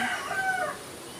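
A rooster crows once in the distance, a drawn-out call rising and falling over faint outdoor background noise.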